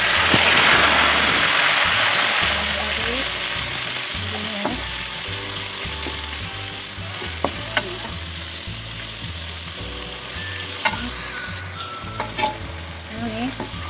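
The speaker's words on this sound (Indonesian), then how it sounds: "Masukkan ini udang sabu sama bumbu" Dried shrimp and blended spice paste fry in hot oil for a sambal with green eggplant, giving a loud, constant sizzle with occasional stirring clinks over a low steady motor hum.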